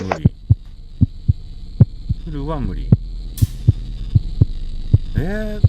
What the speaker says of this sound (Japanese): なんか心臓の音超怖いんだけど